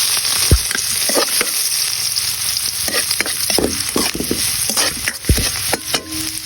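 Garlic frying in a pan for rabbit kare-kare makes a loud, dense sizzle with frequent crackles, sputters and the knocks of stirring, close up and continuous with no talking.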